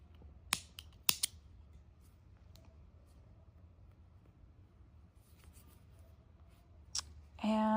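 Scissors snipping crochet yarn after a granny square is finished, two or three quick crisp cuts up close in a quiet room, with a later faint click and a voice starting at the end.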